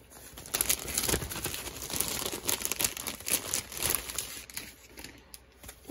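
Crinkly plastic mail package being torn open and handled up close, a busy run of crackling, rustling and tearing sounds at moderate volume with no talking.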